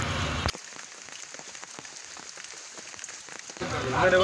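Steady, continuous monsoon rain in Feni, Bangladesh, during flooding, pattering on a surface with many distinct drops, fairly close and even in rhythm, briefly interrupted by louder bursts at the start and end.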